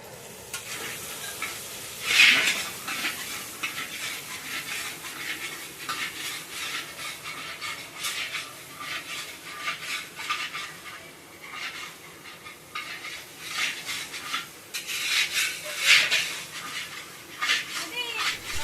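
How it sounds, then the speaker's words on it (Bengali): Spice paste of chili, cumin and turmeric powders stirred and fried in a large pot for a 200-guest feast: steady hiss and scraping throughout, with brief louder clatters near the start and toward the end, and a voice talking over it. "মশলাটা ভালোভাবে কষিয়ে দিয়ে দেবো"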